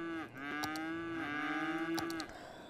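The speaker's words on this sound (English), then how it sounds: "I don't want to hear the cows." Cows mooing in the city-building game Cities: Skylines, a long drawn-out low moo with sharp clicks over it, heard alone and fairly faint.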